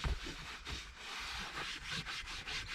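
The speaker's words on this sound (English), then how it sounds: "and then rub it in." Soft, rhythmic rubbing as a mitt works leather cleaner into leather, with short repeated strokes, quiet and close, with no talk.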